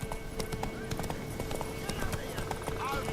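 Roach, the horse from The Witcher 3, gallops with steady rhythmic hoofbeats close by, a brief whinny threaded in over game ambience and faint background voices.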